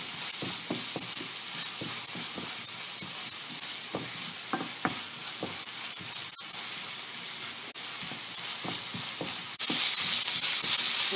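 Tomatoes fry in a pan for fish poriyal, a steady dense sizzle broken by scraping stirs of a spoon, close and continuous, swelling louder near the end.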